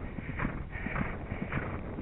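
A small horse walks outdoors, its hooves clip-clopping in a steady, repeated rhythm of soft thuds, with wind noise buffeting the microphone throughout.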